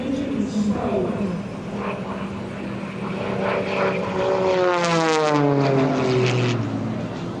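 A propeller-driven aerobatic airplane performs at an outdoor airshow, its engine droning loud and steady, then sweeping through rising and falling pitch as it rolls and passes, with crowd murmur and voices underneath.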